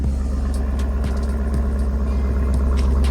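Camaro ZL1 1LE idling through its stock exhaust, a steady, quiet low hum with a faint rhythmic pulse, heard close and alone.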